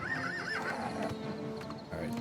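Horse from the game Oblivion whinnies with a rising, wavering neigh, then hooves clop steadily beneath it, close and fairly loud with a busy game background.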